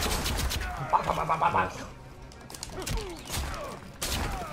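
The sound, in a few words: Erron Black's pistol shots in Mortal Kombat 11 video game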